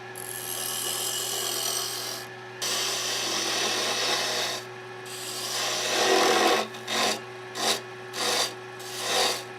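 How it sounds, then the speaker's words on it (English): Close-up rasping rubs on wood as sawdust is pushed into glue: a few long scraping strokes, then a run of quicker, shorter rubbing bursts. "Push a little of this sawdust down into that glue."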